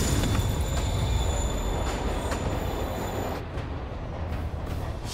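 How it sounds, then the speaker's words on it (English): A train in a video game rumbles away from a platform, its rolling rail noise steady and loud with faint squeals from the wheels, easing slightly toward the end; no voices over it. "Train's moving."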